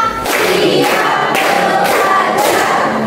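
A group of women clapping together in a counted clapping game, loud crowd sound with several distinct bursts of clapping in a steady rhythm, roughly every half second to second.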